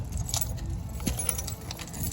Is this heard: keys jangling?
yes